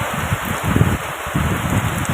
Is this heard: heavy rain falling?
yes